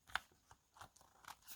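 Scissors trim paper for an envelope collage: a few soft, quiet snips and crisp crunchy cuts spread irregularly, close up, with no talking.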